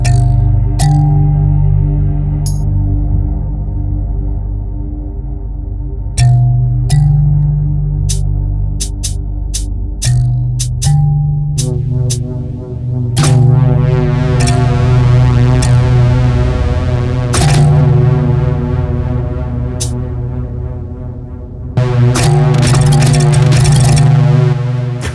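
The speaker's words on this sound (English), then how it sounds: "So here we have a drone on the shortest glass." A sustained synthetic drone from a MIDI controller triggered by a glass hums with layered tones, punctuated by sharp clicks and bursts of dense electronic texture, loud throughout with no talking.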